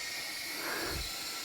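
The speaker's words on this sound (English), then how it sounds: "Compressor goes on" An air compressor pushes air into a pressure tank holding a urethane resin casting, giving a short, steady hiss with a soft swell in the middle.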